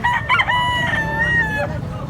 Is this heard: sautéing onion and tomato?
no